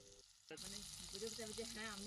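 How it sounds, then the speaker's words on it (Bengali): Silver carp pieces coated in onion paste frying in hot oil: a loud, continuous sizzle kicks in abruptly after a brief quieter moment and holds steady, with a voice talking faintly underneath. "পেঁয়াজ বাটা দিয়ে এইভাবে একবার সিলভার মাছ ভাজা খেয়ে দেখতে পারেন।"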